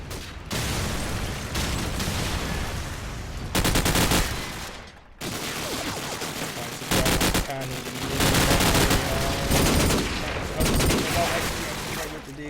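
Desert Eagle and other gunfire in a Call of Duty 4 Promod match, with repeated sharp shots and rapid bursts in clusters. A commentator talks over parts of the firing.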